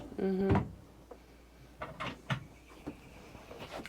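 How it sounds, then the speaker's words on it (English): A storage drawer in a Cub Campers C18 caravan slides and bumps shut with a short, close knock, followed by a few lighter clicks and handling sounds. "Under there, another drawer."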